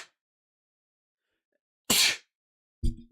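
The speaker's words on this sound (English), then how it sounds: "Finally got to sneeze, man." A single loud, close human sneeze bursts out sharply after a stretch of near silence, followed by a short vocal sound.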